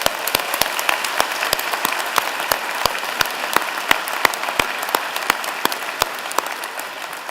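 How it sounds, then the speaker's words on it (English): An audience at a university commerce convocation applauds steadily, a moderate-sized crowd clapping evenly with a few distinct nearby claps standing out above the wash of hands. "I think that deserves a round of applause."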